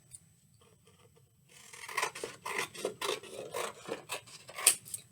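Scissors snipping through white cardstock for a paper craft, a close series of crisp, rhythmic crunchy cuts after a quiet start.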